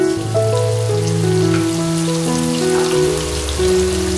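Vegetables and grated ginger fry in a pan over a medium flame, giving a continuous, even sizzle close up, with background music playing underneath.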